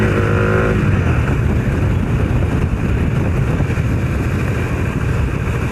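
A Bajaj Dominar 400 motorcycle ridden at night gives a steady, loud engine drone with heavy wind buffeting on the microphone, sustained without pause and with no talk.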